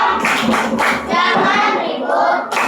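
Schoolchildren in a classroom play the tepuk diam clapping game, clapping together in a few short bursts separated by brief pauses.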